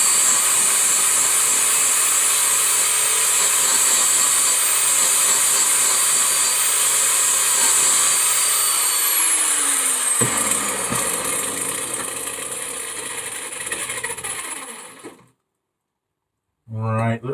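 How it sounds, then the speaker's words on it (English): An angle grinder works on V12 kit car suspension parts, a loud, steady high-pitched whine that holds for about fifteen seconds, shifts pitch partway through, then cuts off abruptly into silence. "if you're going to do angle grinding, don't wear t-shirts and wear gloves"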